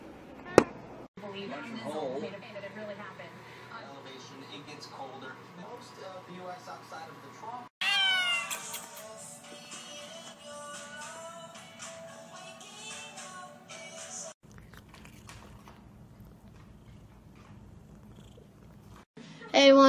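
A pet cat meows and purrs through a busy stretch of sound in a home setting, with shifting noisy segments, music-like passages and people talking at points.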